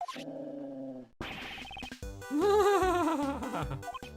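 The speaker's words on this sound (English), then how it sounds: "This is what you're barking at?" A dog in the Ace Attorney Investigations 2 video game gives a short run of synthesized barks and a growling whine over light game music.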